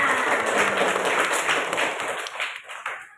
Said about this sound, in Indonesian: tepuk tangan lagi buat Kenaya